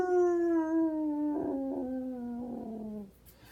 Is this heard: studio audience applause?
no